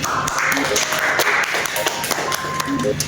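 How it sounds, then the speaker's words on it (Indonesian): Classmates in a classroom give a student a round of applause, with a steady patter of claps under voices. "Tepuk tangan buat Mbak Alfi"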